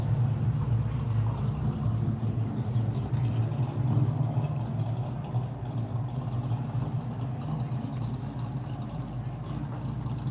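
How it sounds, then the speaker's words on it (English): Car engines in street traffic, a steady loud low rumble of vehicles idling and moving past close by, with no voices over it. "The engine sound is getting loud again, do you hear?"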